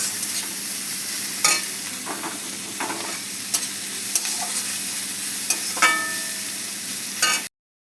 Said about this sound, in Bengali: পেঁয়াজটাকে লাল লাল করে ভাজবো